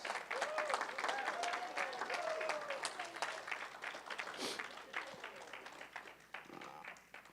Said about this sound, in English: Give him a hand clap of praise.